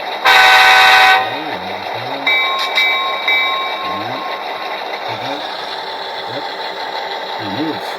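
An HO scale F7 model locomotive sound decoder plays an air compressor effect: a rhythmic chugging pulse repeating over a steady mechanical hum, after an opening horn-like blast, heard up close.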